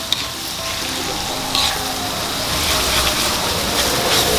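Shallots and garlic being pressed down and fried in oil for a large batch of chicken siomay filling, giving a steady, close sizzle that swells a little louder toward the end, with occasional scrapes.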